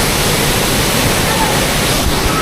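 Sprite Falls in Majayjay, a clear-water waterfall that foams where it hits the surface, roars as a loud, steady broadband rush filling the whole clip.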